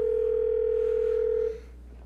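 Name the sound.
telephone call ringing out on radio show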